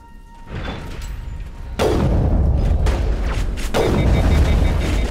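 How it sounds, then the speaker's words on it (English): Sniper rifle shots in the video game Mass Effect, two heavy booming blasts about two seconds apart over a loud, constant rumble of game noise, with no talking. "I'm going to use my sniper rifle here"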